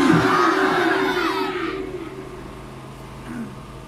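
A large crowd at a Khatm-e-Nabuwwat religious conference in Tando Adam, Sindh, roars a chanted response to a takbir call, loud at first and then fading into a lingering murmur.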